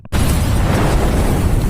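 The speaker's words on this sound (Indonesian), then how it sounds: "karena tak lama mobil itu meledak" A car explodes in a film scene with a sudden, loud blast that bursts in after a brief silence and rolls on as a continuous roaring rumble.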